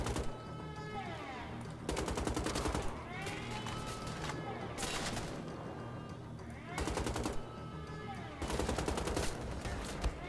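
A newly picked-up weapon in Wolfenstein: The Old Blood fires in several loud bursts of rapid automatic fire, separated by short pauses, while someone talks over the shooting.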